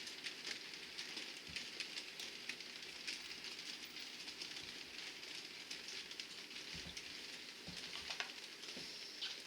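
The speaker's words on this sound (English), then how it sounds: "I've got 1 freight train just making a circuit. It's coming into Amsterdam station now." Model freight train circling a layout and running into a station, a faint continuous rolling rumble with light rail clicks throughout and no voices.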